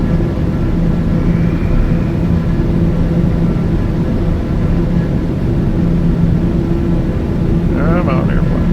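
A TBM 850 turboprop airplane in flight makes a steady loud engine drone and cabin rumble throughout, with a faint tonal whine layered on top.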